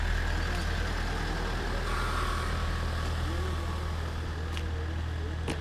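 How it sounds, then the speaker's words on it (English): A passing vehicle's engine and exhaust rumble steadily on an Oxford street between Marlborough Road and Donnington Bridge, a continuous low drone with traffic noise throughout and no talk. "That guy needs to tune up his exhaust, it stinks."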